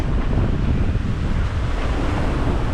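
Steady wind rush and slapping, choppy waves around the sailboat Sea Pearl, reaching under gennaker in 17–18 knots of wind between Guadeloupe and Antigua; a continuous, loud broadband roar with no voices.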